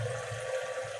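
Water runs from a kitchen faucet fitted with a filter, a steady close rushing hiss that never pauses, with no voices.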